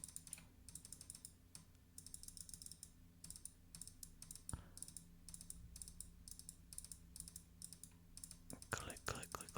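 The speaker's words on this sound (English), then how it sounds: "look, I'm just clicking" A computer mouse clicks during a game of Cookie Clicker, giving soft, close, irregular bursts of quick clicks at low volume, with faint whispering now and then.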